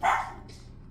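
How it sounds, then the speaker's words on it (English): A pet dog lets out one short, fairly faint bark indoors, followed by a quiet tail of room noise, with no speech. "She loves to bark at the neighbors."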